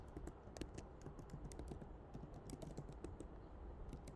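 Soft, rapid clicking of a computer keyboard as an email and password are typed, continuous and quiet, close by with no talking.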